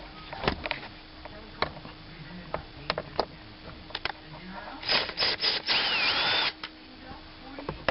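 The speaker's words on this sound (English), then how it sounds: "we're going to remove these 4 screws to take the lid off" A power screwdriver removing the screws from a Corvette center console lid: short whirring bursts with clicks and small knocks, close by, with a longer run of driving near the end and brief speech in between.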